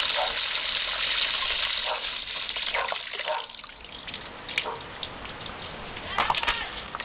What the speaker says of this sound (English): let's open the main valve